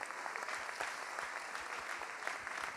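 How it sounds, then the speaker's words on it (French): An audience at a French New Year's address applauds, dense continuous clapping heard steadily from start to end, moderately loud and fairly close. "qu'on peut applaudir."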